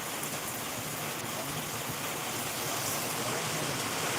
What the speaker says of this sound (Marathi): संग्रामपूर तालुक्यात असा जोरदार पाऊस सर्वप्रथमच होत आहे